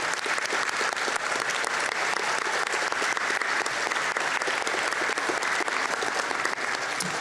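Dense, even applause fills a school blue ribbon ceremony hall as students are honored, steady crowd clapping that holds at a moderate level for the whole stretch without speech.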